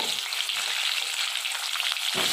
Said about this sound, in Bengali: আমার তেলটা গরম হয়ে গেছে, আমি এবারে এর মধ্যে আলুগুলো দিয়ে দেবো। আলুগুলো আমি ভালো করে একটু ভেজে নেব।